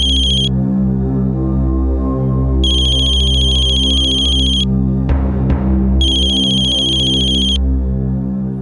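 A telephone rings with an incoming call: repeated loud electronic ringtone bursts separated by short pauses, alone with no talking.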